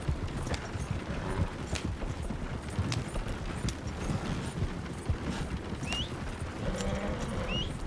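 Horse hooves in Red Dead Redemption 2 clip-clop at a steady walking pace, close by and fairly quiet, with a few faint chirps and mechanical clicks mixed in.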